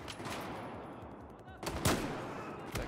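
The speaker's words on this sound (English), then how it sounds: "I shot that guy while he was running." Dense, continuous gunfire from the Battlefield 4 campaign, a loud rattling stream of rapid shots with a couple of heavier bursts standing out near the end, and no talk over it.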